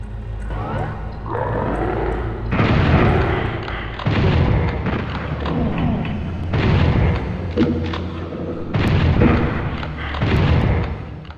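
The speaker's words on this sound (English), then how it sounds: "Doom 2 would also introduce the almighty double-barrel super shotgun that would be even more powerful and" Double-barrel super shotgun blasts in the video game Doom 2, a loud series of heavy booming shots about every one and a half to two seconds, each trailing into a short rumbling decay amid game noise.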